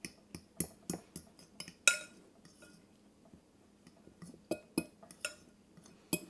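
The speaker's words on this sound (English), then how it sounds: "I'm going to take my fork and stir that and break them big clumps of the almond flour down" A fork clinks and scrapes against a bowl while stirring almond flour to break up big clumps, giving a series of sharp close taps in an uneven rhythm with short quiet gaps between them.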